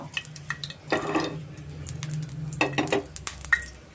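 Chopped onions frying in a pan of oil for green egg bhurji, a steady sizzle broken by scraping stirs and clinks of a spoon against the pan, close and with no talking.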